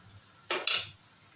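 A metal lid comes off a cooking pan in two quick clinks and scrapes, close and clear, followed by quiet with no talk.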